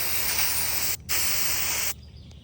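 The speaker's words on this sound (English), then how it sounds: "if you spray paint styrofoam with regular old spray paint" Spray paint can hissing onto a block of styrofoam in two steady bursts, a short pause between them, loud and close with no other sounds.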